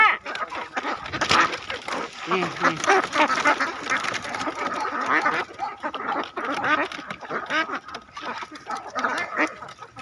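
A flock of free-range egg-laying ducks quacking close by, overlapping raspy calls in irregular bursts, with some clucking mixed in and the flock noisy throughout.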